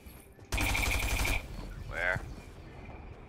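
A close, loud burst of rapid automatic gunfire from a Fortnite battle royale match lasts about a second, followed by a voice speaking over the game's background sound.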